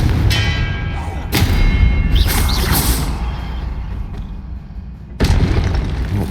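In the video game Hogwarts Legacy, spell blasts go off: heavy booming thuds with whooshes, one hit near the start and another around five seconds, sounding loud and close, with no speech.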